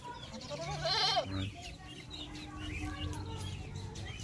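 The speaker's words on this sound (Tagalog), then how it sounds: "Ito na yung kambing natin, oh." A farm goat bleats up close in a rural Philippine yard, one wavering, quavering call, with other livestock and fowl sounds and low background murmur around it.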